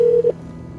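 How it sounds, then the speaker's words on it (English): One short, clear telephone tone sounds on a speakerphone and then cuts off, followed by quiet line hum. The tone is brief and close, and no one speaks. "I'll call him for you. I'll even put it on the speakerphone"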